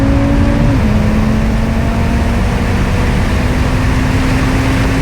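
A Stage 1 Audi RS3 accelerating hard through a 0 to 60 mph run gives a loud, continuous engine roar that fills the whole stretch, with no talking over it.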